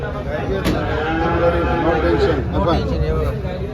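Cows, including HF and Jersey cross cows, moo loudly and close at a cattle market in Dhule, several long lowing calls overlapping amid crowd chatter and market noise.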